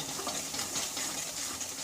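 Potatoes with salt and turmeric being stirred in a hot pan, giving a steady soft sizzle with faint scraping, close and continuous, no talking.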